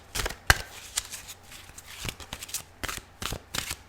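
Tarot cards are shuffled in quick, crisp riffles and slaps, arriving in irregular bursts of papery snaps close to the microphone with a quiet background between them.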